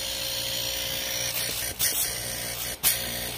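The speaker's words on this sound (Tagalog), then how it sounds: "i-plug in na natin yung ating DIY compressor dito" A DIY compressor rigged as a vacuum pump on a three-door chest-type freezer runs with a steady, high-pitched whine, broken by a few brief dips and bursts as it works.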